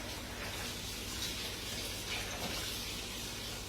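Tap water runs steadily into a bowl holding sea moss, a soft continuous splashing and hiss that stays faint and even throughout.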